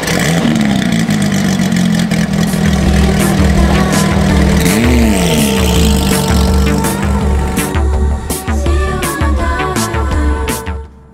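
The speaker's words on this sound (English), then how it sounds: "let's hear this startup" A Porsche 911 engine cranks and roars to life, revving up loudly with a rising pitch, then settling into a rough, throaty idle.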